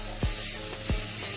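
Spray adhesive hisses from an aerosol can onto a motorcycle seat for a Suzuki GN250 brat-style scrambler, in three short, sharp bursts, close and clear with no talking.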